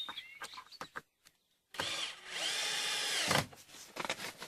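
A power drill drives a screw through a batten into a frame to hold tensioned polythene. A couple of seconds of loud, close whirring comes between scattered handling knocks and taps.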